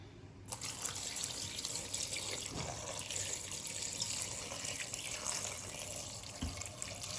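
Plain water pours steadily into a pot of cabbage and shiitake mushroom soup, a continuous close splashing gush that starts abruptly and runs on without talk.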